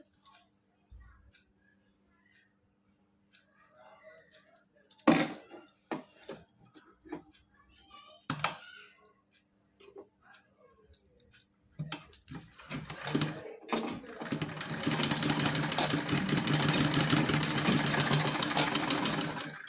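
Sewing machine stitching a folded seam on a cotton dress for a Laddu Gopal idol, with rapid mechanical ticking in short bursts, sparse handling noises between, then a steady loud continuous run of stitching near the end.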